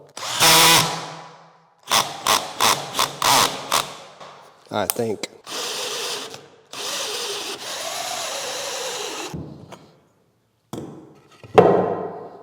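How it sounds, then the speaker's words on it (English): A 3-inch hole saw bores through wood in loud, close power-drill bursts: several short triggered pulses, then longer sustained cutting runs, with a brief spoken remark partway through. "I'm going to take the 3-inch hole saw, centered with the width, and drill another hole."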